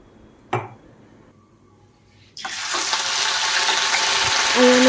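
Cumin seeds tempering in hot oil for paneer bhurji, a loud steady sizzle that bursts in after a quiet start and a single clink, then keeps crackling at an even level to the end.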